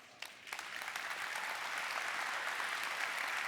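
Applause at a tech awards ceremony, starting with a few scattered claps and swelling within a second into a steady, fairly quiet roar of many hands from a large audience.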